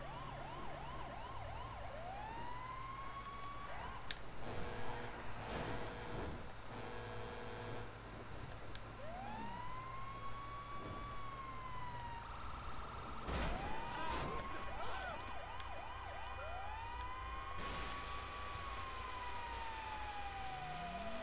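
Wailing police siren from a GTA video game, switching between different siren patterns, with rising and falling sweeps and rapid yelps repeating loudly and steadily over a continuous engine drone.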